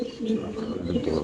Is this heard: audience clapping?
no